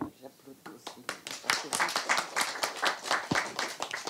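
An audience at a talk on resisting Russian propaganda claps steadily, many hands in a dense patter of close, crisp slaps that builds and holds at moderate loudness while a voice speaks underneath.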